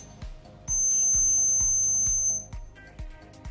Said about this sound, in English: if any object is interfering with the laser's beam, it starts beeping